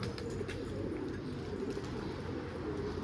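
An escaped pigeon coos softly in low, rolling tones against a steady background hum, faint and not close.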